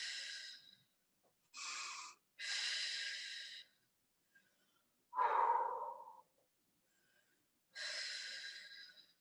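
Heavy, forceful breaths during a bodyweight core workout on a mat, five loud exhales and gasps close to the mic in an uneven rhythm, separated by pauses of near silence.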